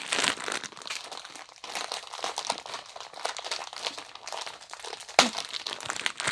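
A plastic packet of four patterned paper napkins being opened by hand: continuous crinkling and crackling of thin plastic, close up, with a sharper tearing rip near the end and no talk.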